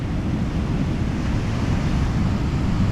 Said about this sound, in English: It's got a nice bit of surge coming in there.